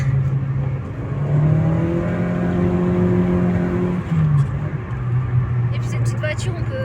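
A small Citroën Saxo engine revs up through rising gears as the car drives, climbing to high rpm in second gear and then settling, with people talking inside the car.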